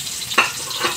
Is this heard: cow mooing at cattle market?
no